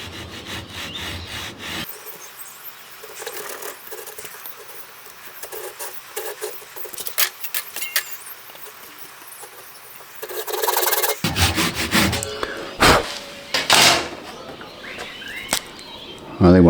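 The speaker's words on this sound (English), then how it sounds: "These little pull saws are so good for doing accurate cuts and straight cuts." A small pull saw cuts a piece of wood being shaped into a shallow-diving crankbait lure, with bursts of quick rasping strokes up close that stop and restart, growing heavier and coarser toward the end.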